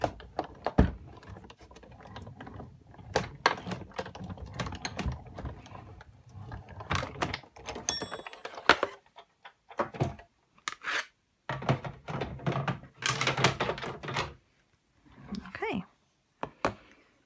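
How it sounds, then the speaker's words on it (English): Big Shot die-cutting machine cranking a plate stack with an embossing folder through, producing rhythmic clicking, ratcheting and thunking mechanical sounds in bursts with short pauses, close and moderately loud. "So I've got my Big Shot platform plate, and I've got my embossing folder, and then one of the plates on top. I'm just going to run that through."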